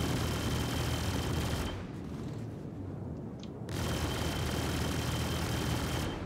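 Rapid, continuous video-game gunfire while shooting beneath a hovering enemy's belly. It is loud and dense, breaks off for about two seconds, then resumes at full intensity.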